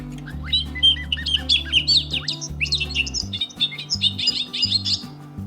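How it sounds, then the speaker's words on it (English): A bobolink's bubbly, tinkling song plays in rapid, jangling bursts from a bird sound book, slightly tinny as if from a small speaker, over a faint low hum. "It plays all the different sounds of the birds."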